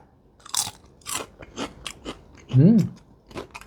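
Crisp potato chips bitten and chewed up close, several loud crunches in uneven succession with a brief vocal murmur partway through.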